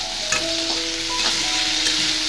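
Chopped green chilli frying in a pan for a potato curry, a loud close sizzle with sharp crackles and a few brief clinks or scrapes of stirring, no voices.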